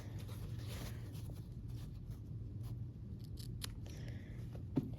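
Faint, sparse snips of scissors trimming the dog-ear points off fabric quilt triangles, set against a steady low hum in a quiet room.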